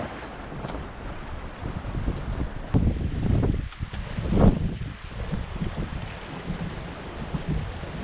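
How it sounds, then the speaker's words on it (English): Wind buffeting a sailboat out on the North Atlantic, a loud, continuous rumble and gusting roar against the microphone, with water sloshing along the hull and no talk. "The wind is north-northwest, so it's blowing from left to right across the screen."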